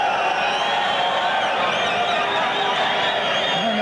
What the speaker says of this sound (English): And the fans are cheering the appearance of the third round.